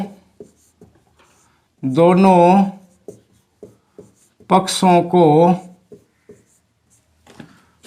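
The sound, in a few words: writing math working on board or paper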